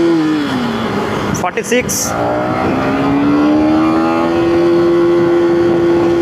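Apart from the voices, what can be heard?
motorcycle accelerating in first gear toward top speed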